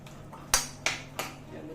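A spoon stirs spices being fried in a pan, three sharp metallic clanks against the pan spaced about a third of a second apart, over a low background hum.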